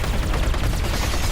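A dense, sustained blast of gunfire-like noise from a power shot in the PS4 shooter game Matterfall, loud and continuous with crackling bursts.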